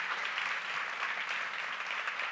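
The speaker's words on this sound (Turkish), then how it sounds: "Bir alkışla onu anlatmak istiyorum." A conference audience at a youth event claps steadily for a couple of seconds, a dense, even patter of many hands heard from within the hall, fairly soft and without talk over it.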